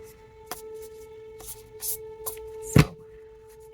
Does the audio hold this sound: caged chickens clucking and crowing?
no